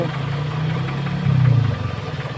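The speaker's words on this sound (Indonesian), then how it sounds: "Anda dengar suara mesinnya masih" A 1986 Toyota Starlet engine idles with a steady low rumble, slightly rising in intensity midway, close to the listener.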